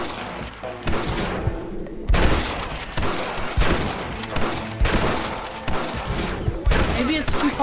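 Repeated gunfire during a Red Dead Redemption shootout, shots cracking out in irregular bursts over a busy game soundtrack, with a player talking now and then.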